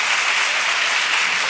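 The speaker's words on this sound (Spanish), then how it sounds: "Un aplauso a todos." Steady, dense applause from an audience at a talk on religious vocation in Bilbao, a continuous wash of clapping with no pauses.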